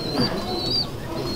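Soft pigeon cooing, a couple of low throaty coos close by against a quiet background, with faint chirps in the mix.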